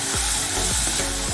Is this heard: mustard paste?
yes